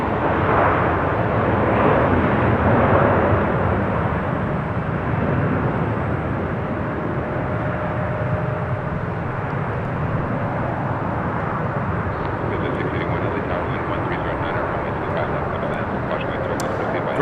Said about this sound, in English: KLM, the Dreamliner, touching down there on 25 left.